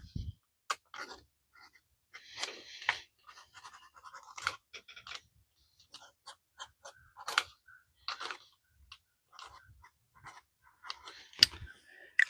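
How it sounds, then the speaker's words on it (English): Painter's tape tears and a Sharpie writes on it while pepper seedlings are marked, giving short sharp rips and scratchy strokes in scattered bursts, close by and fairly quiet with gaps of silence. "Just a little piece of painter's tape and a Sharpie to mark what we're growing."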